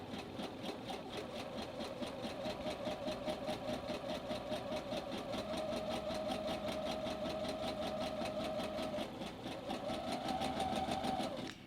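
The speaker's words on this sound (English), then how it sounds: "I'm just doing a regular width stitch, and I'm back stitching on both sides" A sewing machine back stitching a front fly zipper at regular stitch width, running in a steady, fast, even whir for several seconds with a brief change in pitch near the end, quiet and close with no talking.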